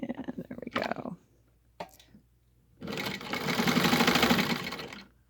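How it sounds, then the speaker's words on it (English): A Singer 15-91 sewing machine runs in one steady stitching burst of about two seconds, close and fairly loud, after a few brief handling noises. "let's just do a stitch over. Put your needle down, and there we go."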